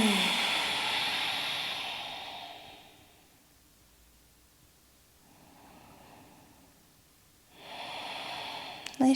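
Slow, deep breaths during a gentle mobility routine for beginners and seniors, two soft airy exhales and an inhale separated by quiet pauses, close and faint, with no talking over them.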